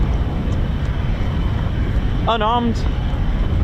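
A US Air Force turboprop aircraft at RAF Mildenhall, rated at 2,282 shaft horsepower per engine, drones loudly and steadily from a distance, with a brief voice heard over it.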